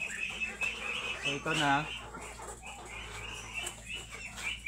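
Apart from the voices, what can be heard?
chickens clucking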